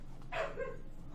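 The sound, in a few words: dog barking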